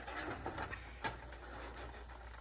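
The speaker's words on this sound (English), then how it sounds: "You can hear it sizzling." Steady broadband sizzle of fried rice frying in a pan, a constant hiss with faint crackles and pops throughout, fairly quiet and close.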